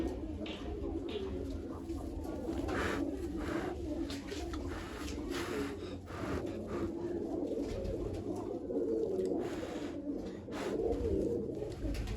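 Pigeons coo continuously and fairly close, a steady overlapping chorus of soft throaty calls from birds kept alongside young fledglings, with no clear talk over them.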